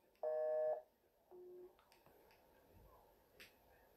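A telephone busy signal sounds as two short electronic tones, the first louder, then the second softer, followed by faint clicks and a quiet background.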